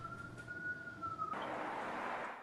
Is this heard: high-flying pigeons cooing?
no